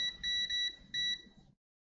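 A multimeter's continuity beeper sounding on shorted capacitors of a Samsung SM-A235F phone board: a faint, steady high tone broken into three short pulses before stopping.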